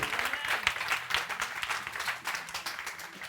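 A church congregation applauds during a Sunday service, a dense burst of clapping lasting a few seconds at moderate volume with no voices over it.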